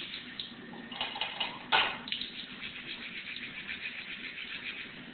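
Water from a running tap splashes and sprays steadily as hands are scrubbed with a brush, with a louder splashy burst midway through.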